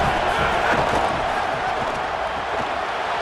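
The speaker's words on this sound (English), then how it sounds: "this home crowd getting involved right from the start" Home crowd in an EA Sports College Football stadium game, a dense, steady roar of cheering and shouting that fills the whole stretch at high level with no break.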